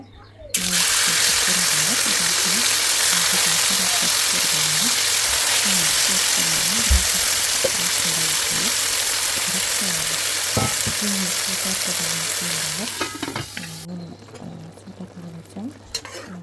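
Cubed sheep tail fat frying in a pan, a loud continuous sizzle with rhythmic stirring scrapes, close up, fading toward the end with a few utensil knocks.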